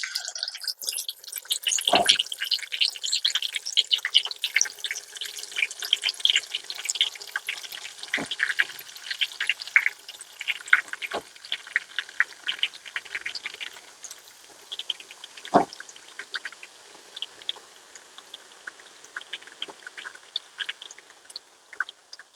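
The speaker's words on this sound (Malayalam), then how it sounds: "ഇനി നമുക്ക് എണ്ണ നല്ല രീതിക്ക് ചൂടായിട്ടുണ്ട് അപ്പോൾ ചിക്കൻ നമുക്ക് കൊണ്ട് പറക്കിട്ട് കൊടുക്കാം" Chicken pieces frying in hot oil with curry leaves, a steady close crackle and sizzle with dense spitting pops and a few louder bursts, heard alone without talk.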